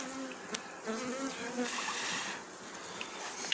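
Bees hum and buzz at close range on a brood frame in a hive, with young bees emerging, in a steady, quiet drone, with a few sharper individual buzzes rising and falling.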